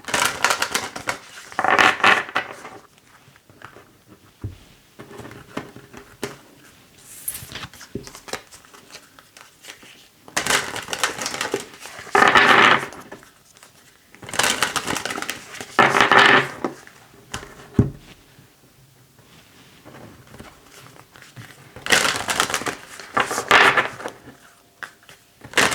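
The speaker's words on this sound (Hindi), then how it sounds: "ओके, ऑल राइट, हम आपके कार्ड्स को शफल करेंगे।" Tarot cards shuffled by hand in bursts, several riffling flurries of a second or two separated by quieter pauses, close and crisp with occasional soft taps.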